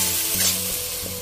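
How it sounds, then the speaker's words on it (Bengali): Spices being sautéed in a pan for a mutton liver curry give a steady close sizzle, with a faint hum running underneath and no voices. "সমস্ত মশলাগুলো 4-5 মিনিট কষিয়ে নেব।"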